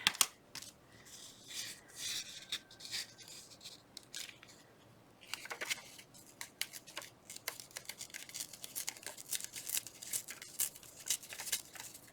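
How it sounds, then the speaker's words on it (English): Paper being torn by hand to make a Valentine envelope pocket, quiet close crackling and ripping in short irregular bursts with faint rustling, growing busier toward the end. "Okay, now if I can tear it right without messing it all up. Let's tear this side off first."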